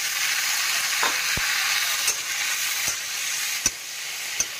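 Tomatoes fry in a pan for palak paneer, a continuous bright sizzle with a few sharp spoon taps against the pan spaced a second or so apart, no talking.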